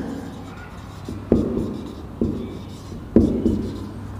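Writing on a board, with steady scratchy strokes punctuated by three sharper taps as the tool meets the surface, close and continuous with no talking.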